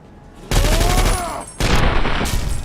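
Mercenaries firing a machine gun in Fallout 3, two loud, close sustained bursts separated by a short pause.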